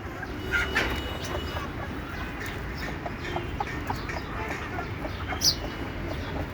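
Native free-range chickens cluck and call repeatedly at close range in a farmyard, with scattered short clucks over steady background noise.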